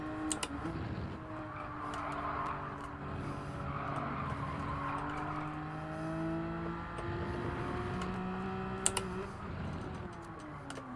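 Race car engine in Gran Turismo 7 during a time trial, a steady droning engine tone rising and falling through gear changes, fairly quiet and even throughout with occasional faint clicks.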